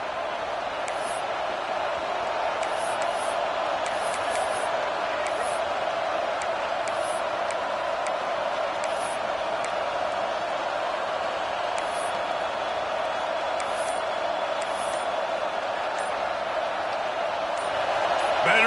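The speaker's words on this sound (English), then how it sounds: "with this place rocking, the crowd forces a false start" Stadium crowd in a Madden football video game, roaring loudly and steadily on third down after a false start, a dense, unbroken wash of noise that swells slightly near the end.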